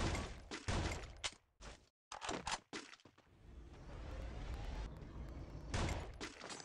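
Bursts of sharp sniper rifle gunfire in Free Fire crack out in several quick clusters, followed by a rumbling tail and another loud burst.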